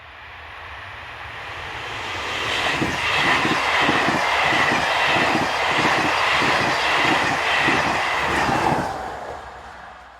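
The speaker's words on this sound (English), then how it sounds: "we have sister loco number 7241 on the rear of a slightly delayed 1333 Paris to Lyon working." Locomotive-hauled passenger train on the Paris to Lyon line, passing with a sister loco on the rear: a steady rising roar of wheels with a regular clickety-clack of rail joints, loud and close, then fading at the end.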